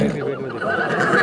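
A horse neighs at a livestock market where young mares and foals are being sold, a close whinny under steady background chatter and crowd noise.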